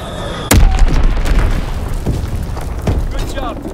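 A heavy bomb explosion in the World War II shooter game Call of Duty: WWII hits with a sudden loud boom, then rumbles on beneath a steady bed of battle noise and radio voices.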